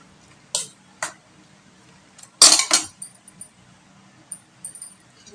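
A utensil stirs a semiya and egg mixture in a bowl, giving sharp scattered clinks: two isolated taps, then a dense burst of scraping clatter, followed by lighter irregular clicks. Quiet room, no talking.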